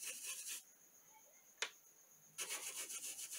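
Paint being rubbed onto a craft orchid with cherry-coloured paint, heard as close, quiet scratchy rubbing strokes that come in two bursts separated by a near-silent gap and a single small click.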